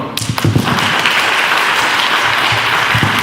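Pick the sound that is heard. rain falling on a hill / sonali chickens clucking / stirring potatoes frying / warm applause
warm applause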